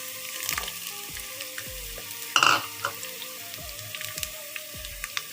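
Green chillies frying with ginger and garlic in a pan make a low, steady sizzle with scattered pops, broken by a sharp spattering burst partway through and light clinks of utensils, with no talking.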